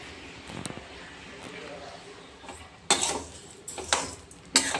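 Rice and lentils dry-roast in a pan and are stirred with a metal spoon, making soft scraping and then several louder clinks against the pan, with a voice speaking over part of it.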